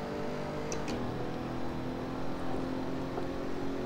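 A Pagani Huayra sports car engine in the racing sim Assetto Corsa hums at a steady, sustained pitch with a low drone, loud and continuous, with no voices.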